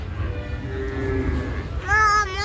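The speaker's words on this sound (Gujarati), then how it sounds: "કેટલી બધી ગાયું ને ભેંસું ને છે" Cows at a cow shelter for old and rescued animals mooing, a long drawn-out call in the first half and then a louder, closer, rising moo at the end, over steady barn noise.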